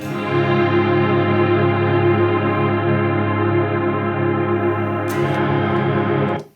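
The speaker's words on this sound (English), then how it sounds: "it's their reverb, and then we go into mega mode when you press this" A sustained guitar chord rings out heavily washed in reverb and shimmering effects from a reverb pedal in mega mode, holding steady before cutting off at the end.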